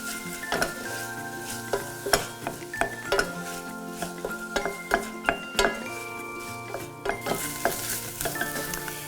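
Apple cooking down in a pan for a beetroot burger relish, with soft sizzling under frequent sharp clinks of a utensil stirring against the pan, uneven knocks and scrapes spaced through the clip.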